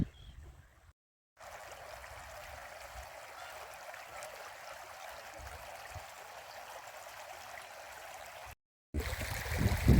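Clear water of a forest stream in rural Vietnam flowing and trickling steadily at moderate distance, a soft continuous wash without talk.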